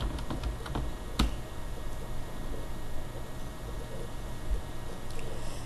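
Someone types a web address on a computer keyboard, a few soft, quick clicks near the start under a steady hiss of room noise, then mostly quiet background.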